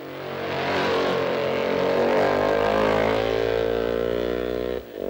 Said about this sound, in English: Down Bray Hill at over 100 miles an hour and onto Quarter Bridge, where it's bottom gear for Daniel